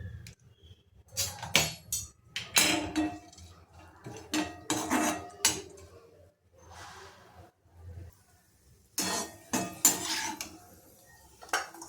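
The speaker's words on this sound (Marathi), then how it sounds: "आता हे बदाम आणि काजू बारीक चिरून घेतलेत ते आपल्याला तुपामध्ये भाजून घ्यायचे आहेत" Chopped almonds and cashews are stirred in ghee in a pan, with irregular bursts of metal spoon scraping and clinking against the cookware, separated by quieter gaps and a soft background hum.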